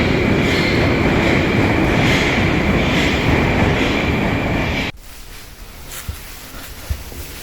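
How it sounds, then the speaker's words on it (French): A Moscow metro train runs with a loud, steady rushing rumble and rattle, then cuts off abruptly partway through to a much quieter station ambience with a few faint knocks. "Voilà le magnifique métro de Moscou."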